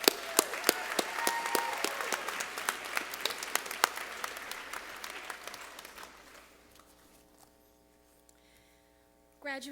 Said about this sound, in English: So one more round of applause for all our student speakers this evening.